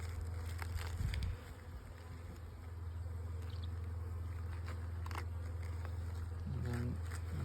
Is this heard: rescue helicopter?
no